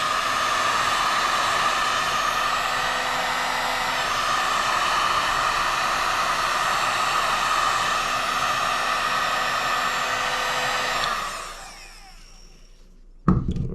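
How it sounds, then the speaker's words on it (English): A heat gun blows steadily and loudly at close range while melting solder on a kayak power cord, a constant broadband whoosh with no talk, then it cuts off near the end and leaves near silence broken by one brief knock. "Turn the heat gun off."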